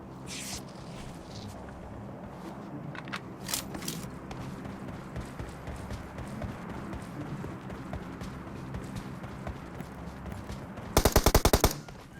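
Gunfire in the PUBG Mobile shooter in fog: a quiet stretch of ambient hum with scattered faint thuds ends in a loud, rapid automatic burst of about a dozen close shots lasting roughly a second.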